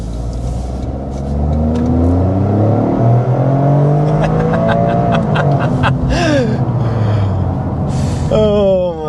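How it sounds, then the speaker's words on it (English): A 2025 Toyota GR Corolla with the new automatic transmission pulls hard on the road, its engine note loudly rising and falling through gear changes, with excited gasps and breaths from an occupant near the end. "let's start with a hard acceleration"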